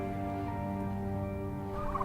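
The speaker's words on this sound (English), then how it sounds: "My favorite breed is probably the Narragansett turkeys" Turkeys gobbling in a dense, continuous chorus of steady, rattling calls that stays loud and close for the whole stretch, with no talking over it.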